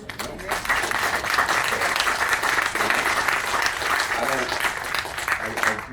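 Applause from a crowd at a library commons ribbon cutting, a steady wash of clapping lasting several seconds with a few voices mixed in.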